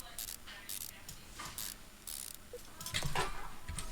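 A wrench in Car Mechanic Simulator tightens tire nuts with quick, faint ratcheting clicks in short repeated bursts, alone and close.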